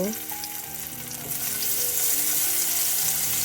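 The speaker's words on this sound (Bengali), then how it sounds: "এখন দিয়ে দিব তেল মাছগুলো ভাজার জন্য" Steady, loud sizzling of small frozen tengra fish frying in hot oil, the crackle growing denser and fuller after the first second and continuing without a break.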